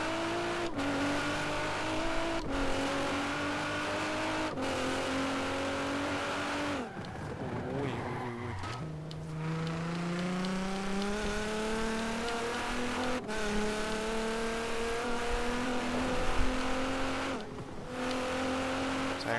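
A Nissan GT-R R35 in the racing game Forza Horizon 4 roars loudly and continuously, its engine note climbing through gear changes with brief dips and tire squeal, driving near and dominant with no one talking.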